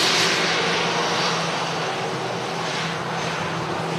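A Corendon airliner inbound from Antalya roars over Manchester Airport. The engine drone is loud and steady, easing slightly as it passes, with no talk over it.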